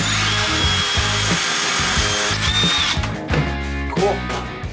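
A power drill bores a hole in a door, a loud pulsing motor whine with wood-grinding rasp that shifts and eases toward the end.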